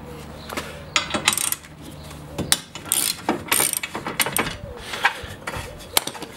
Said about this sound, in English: You can feel that loosening now as the bolt comes out